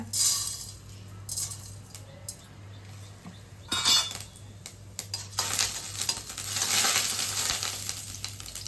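Mustard seeds and urad dal crackle and sizzle in hot coconut oil in a pan, with bursts of spattering and a few stirring clinks of a utensil against the pan, steady and close throughout.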